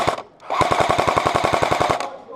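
An M60 machine gun fires one rapid, close, loud burst of roughly fifteen rounds in an even rhythm, with no talk over it.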